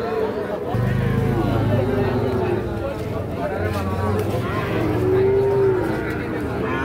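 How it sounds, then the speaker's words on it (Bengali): A Sahiwal bull calf at a busy cattle market lets out long, low moos, two drawn-out calls over a steady background of crowd chatter and nearby voices. "এর পাশে দেখছি একটা বেশ সুন্দর সাইজের শাহিওয়াল ষাঁড় বাছুর।"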